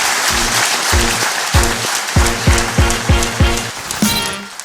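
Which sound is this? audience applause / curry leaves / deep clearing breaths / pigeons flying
audience applause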